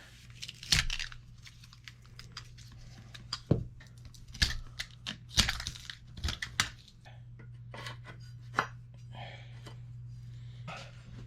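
Wrapping being peeled and torn off an old wooden tool handle, faint irregular crinkles, rips and scratchy snaps up close over a low steady hum.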